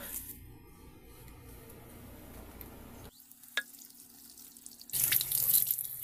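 Tap water runs to rinse rust and green buildup off a shower head, a steady close splash that drops away to a thin trickle and drip before gushing loud again near the end.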